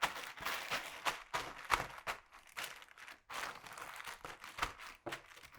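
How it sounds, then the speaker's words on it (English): Hot Cheetos sealed in a zipper freezer bag are crushed by hand, giving loud, close crinkling and crunching in rapid irregular bursts with brief pauses between. "transfer them to a nice zipper freezer bag that won't come open"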